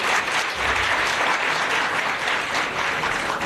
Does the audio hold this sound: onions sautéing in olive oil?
no